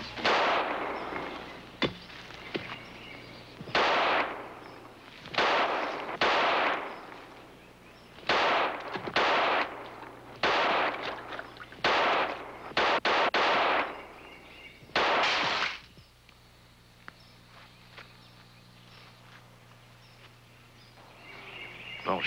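A series of about a dozen sharp gunshots ring out outdoors, some spaced apart and some in quick pairs, each loud with a short echoing tail, followed by quieter ambience.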